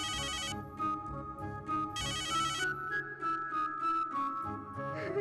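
A phone ringtone plays a bright electronic melody in repeated bursts over a sitcom scene, close and clear against a soft background.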